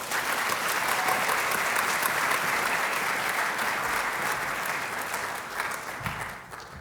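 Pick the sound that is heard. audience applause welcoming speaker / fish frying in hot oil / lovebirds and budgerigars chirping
audience applause welcoming speaker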